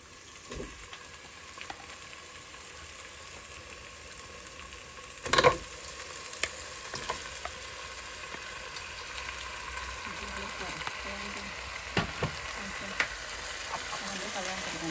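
Seasoned chicken pieces go into a hot pot for biryani and get stirred, giving a steady close sizzle with scattered clanks and scrapes and a louder splat of frying around the middle.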